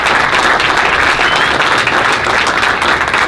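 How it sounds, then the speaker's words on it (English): An audience applauds at a senator's event on a bill to help hospitals fight opioid addiction, giving dense, steady clapping that stays loud and even throughout. "Please give them another round of applause."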